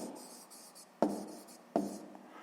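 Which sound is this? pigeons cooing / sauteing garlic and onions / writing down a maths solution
writing down a maths solution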